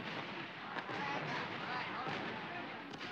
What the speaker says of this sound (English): Every shop has its own firework display.